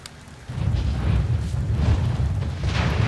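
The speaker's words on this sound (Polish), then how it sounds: "w taką burzę. No, pada, pada." Thunderstorm rain in The Sims 2 video game, a dense low rumbling wash that rises sharply after a brief quieter start and then holds steady.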